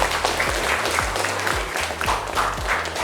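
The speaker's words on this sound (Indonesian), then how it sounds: "Oke, tepuk tangan untuk kita semua" Applause from a classroom of students during a lesson, steady dense clapping filling the room from start to finish, loud and close with no one speaking.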